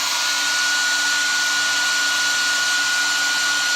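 A handheld hair dryer blows steadily on chalk paste laid over a stencil, a loud, even whirring hiss with a fixed whine that never changes for several seconds, close up and with no voices.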